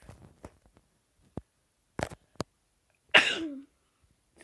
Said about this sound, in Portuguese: Espirrei aqui